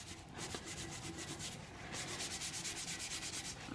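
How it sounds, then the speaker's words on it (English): A towel wipes a tumbler clean with quick, close rubbing strokes, faint and rhythmic, turning into fast regular back-and-forth scrubbing over the second half. "So what I'm going to do here is just give it a good wipe"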